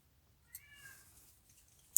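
A European tabby cat gives a single short, faint meow in the background of a quiet room, followed by a soft click.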